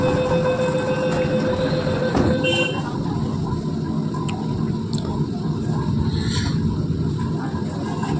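Metro train running underground at Howrah, Kolkata: a steady, loud rumble of wheels and carriage fills the whole stretch, with a brief high squeal and clatter early on and faint tones above.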